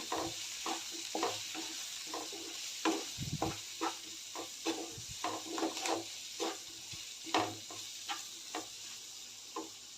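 Spoonfuls of cumin powder and asafoetida being stirred through a pan of bell pepper and gram flour sabzi, with soft repeated scrapes and light sizzling in an uneven rhythm, close up with no talking.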